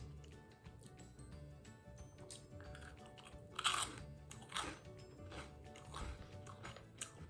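Someone chews a sweet croissant, producing soft, close crunches and a few sharper crispy bites in quiet surroundings, with no talking.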